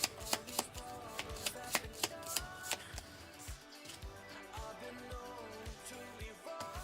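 Cards from the Star Trek: Captain's Chair board game being shuffled by hand, a run of crisp riffling bursts and taps close up and fairly quiet, with no talking.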